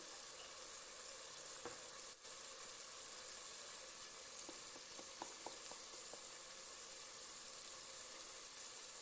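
Frozen tinda gourd with turmeric, cumin and red chili sizzles steadily in a pan, a constant dense frying hiss with a few faint clicks of a utensil, no voices.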